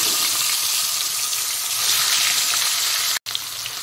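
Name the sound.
chitol fish pieces frying in hot mustard oil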